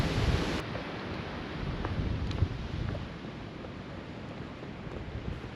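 Gusty wind blows on an Appalachian Trail mountainside near Spy Rock. A sharp burst at the start gives way to a steady, moderate rushing with low buffeting rumble, and no talk is heard.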